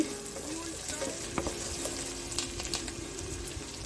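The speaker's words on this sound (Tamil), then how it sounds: "அது வரைக்கும் நல்லா இதை வந்து டீப்பாக ஃப்ரை பண்ண போகிறோம்." Onions fry in a pan for prawn gravy, giving a constant close sizzle with occasional scraping clicks of stirring.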